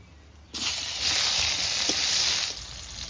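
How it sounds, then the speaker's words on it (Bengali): Eggplant slices hit hot oil left over from frying fish, bursting into a loud, steady sizzle that swells then eases slightly, close up with no talking. "ওই তেলেই বেগুন কটা ভেজে নেবো।"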